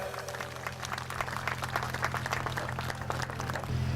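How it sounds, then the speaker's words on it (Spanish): An auditorium audience at a regional curriculum congress in Chiclayo, Lambayeque applauds a speaker, a sustained wash of many hands clapping at moderate distance that swells slightly toward the end. "Fuertes los aplausos para él."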